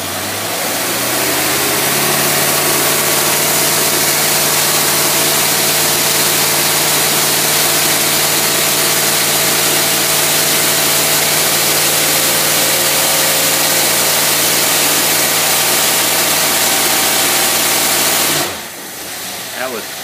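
A vehicle engine runs under heavy load at about 85 mph, a loud, steady, unbroken drone with a constant hum that holds for nearly twenty seconds before abruptly dropping away.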